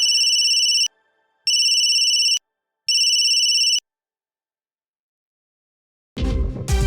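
A bright electronic ringtone beeps in three evenly spaced bursts, followed by silence and then a sudden burst of other sound.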